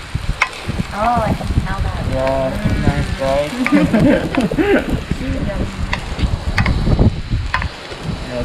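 Onion sizzles and fries in a pan while being stirred during an outdoor resort cooking class in the Maldives, a steady crackle running throughout beneath a voice speaking over it.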